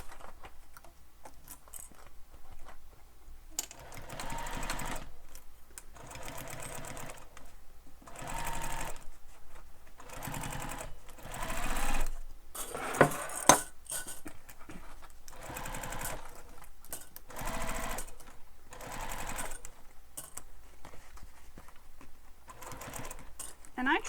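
A sewing machine stitches a crossbody bag in repeated bursts of rapid mechanical whirring, separated by short pauses, close and fairly loud, with a few faint clicks and handling noises between runs.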